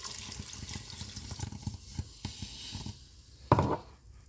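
A glass of water is poured into a Cookeo electric pressure cooker while making courgette and bacon risotto, a soft, fairly quiet trickle and splash ending with a brief sharper slosh near the end.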